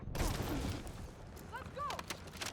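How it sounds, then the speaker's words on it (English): Gunfire in Battlefield 6, a bright burst of shots near the start followed by scattered cracks and rattles over game noise, with someone talking through much of it. "Contact! Enemy machine gun!"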